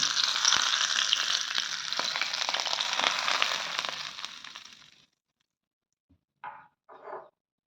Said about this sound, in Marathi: छान झाली आहे फोटणी त्याच्यावरती घालून देते मी